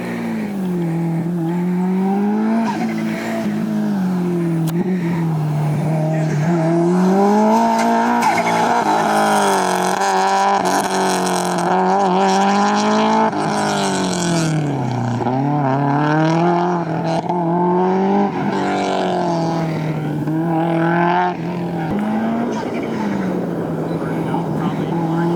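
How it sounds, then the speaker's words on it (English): A fast Subaru STi at an autocross event roars loudly and continuously nearby, its engine note rising and falling as it revs through gears and corners, with tire noise mixed in. "So here comes the car that I rode in."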